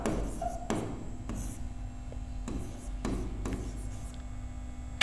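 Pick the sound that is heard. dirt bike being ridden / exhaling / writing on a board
writing on a board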